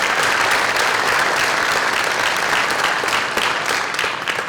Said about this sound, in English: give them both a round of applause for everything they do